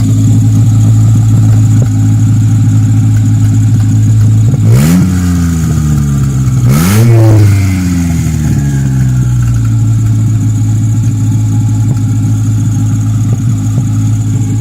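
A turbocharged Nissan 240SX S13 engine idles steadily and loud, then gets two quick sharp revs a couple of seconds apart that rise and fall back to a lumpy idle.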